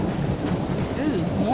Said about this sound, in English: It's really noisy in the rain.